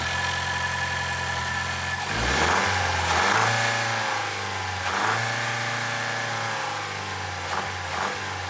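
A running Toyota Land Cruiser engine drones steadily with a mechanical clatter and a rising whine, briefly swelling as it revs, nearby and continuous.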